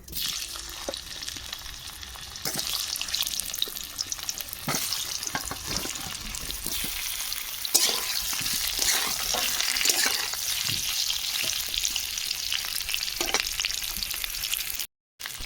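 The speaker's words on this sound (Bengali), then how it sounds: "কড়াতে সর্ষে তেল দিয়ে দিচ্ছি আলু ভাজবো তেল গরম হয়ে গেছে আলু দিয়ে দেবো" Potatoes frying in hot mustard oil in a wok, a steady dense sizzle with stirring clatter and occasional scrapes running throughout, close and fairly loud with no voices.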